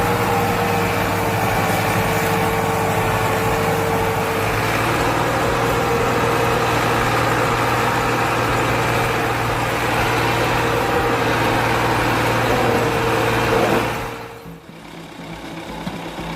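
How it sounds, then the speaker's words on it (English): A Massey Ferguson 260 tractor pulling a loaded sugarcane trolley, its diesel engine droning steadily and loudly up close with a low rumble, before the sound drops away sharply near the end. "The Massey Ferguson 260 tractor pulling a sugarcane trolley demonstrates its strength and reliability"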